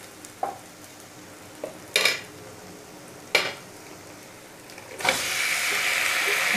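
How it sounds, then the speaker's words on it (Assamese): Marinated broiler chicken hits a hot pan on a high gas flame: a few sharp clinks of a utensil against cookware, then a loud, steady sizzle that fills the last second and a half. "মেৰিনেট কৰা মাংসখিনি দি দিলোঁ গেছৰ ফ্লেমটো মই এতিয়া হাই কৰি দিছোঁ"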